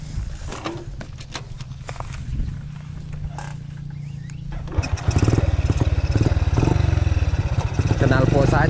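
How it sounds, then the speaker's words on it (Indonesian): An old Yamaha Vega motorcycle with a Husky exhaust rides along, its engine drone building and growing louder as it accelerates through the second half, with a person talking over it. "dengan motor Vega lama ya, knalpot Husky Mita tuh, guys."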